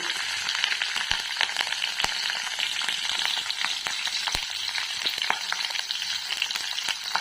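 A tempering for mango pulihora frying in hot oil makes a loud, dense, steady sizzle with scattered crackles and a few sharp stirring knocks.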